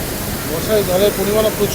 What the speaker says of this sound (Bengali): এটা হচ্ছে উশ্রী ফলস